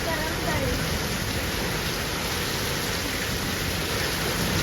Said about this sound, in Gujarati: અત્યારે એટલો વરસાદ ફૂલ આવે કાંઈ નથી ઘટે એમ